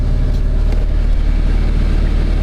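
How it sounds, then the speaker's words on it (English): A 1995 Geo Prizm engine idles in gear, giving a steady, loud, low drone that runs unbroken throughout with no speech. "It didn't tell us what gear, but we're idling in gear."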